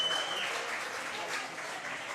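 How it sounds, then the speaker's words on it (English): Steady applause from an audience at a youth archery tournament, the 2023 Texas Open, a soft continuous patter of many hands heard from a distance without talking. "Everyone's clapping for them. I can hear that."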